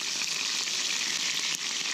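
Peppers frying in hot oil at a campsite, a steady, dense, bright sizzle that holds evenly throughout with a faint crackle, close and unbroken by talk.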